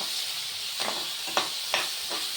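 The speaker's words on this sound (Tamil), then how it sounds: "நல்லா வதங்கணும். தக்காளி நல்லா மஜ்ஜி ஆகணும்." Chopped tomato sautés in a hot pan for Maggi noodle biryani, a steady close sizzle punctuated by three or four crisp stirring scrapes.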